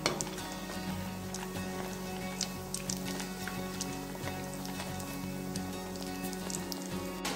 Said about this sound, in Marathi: कढईमध्ये मी गरम तेल करायला ठेवलेलं आहे। आता त्यामध्ये मी बॉल तळून घेणार आहे।